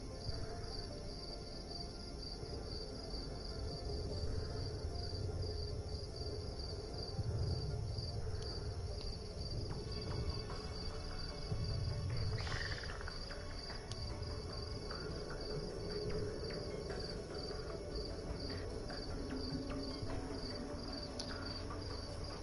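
Crickets chirp in a constant high, shimmering trill across a quiet night, steady and soft throughout with no talking.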